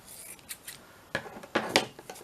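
Several crisp scissor snips cutting Amazon packaging, a few quick cuts spaced apart with short pauses, close by and otherwise quiet.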